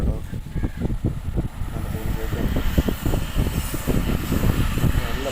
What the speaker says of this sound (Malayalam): ട്രെയിൻ്റെ സൗണ്ട്